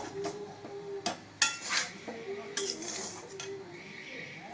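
A utensil stirring salted food in a pot, with irregular metallic clinks and scrapes against the pot's sides.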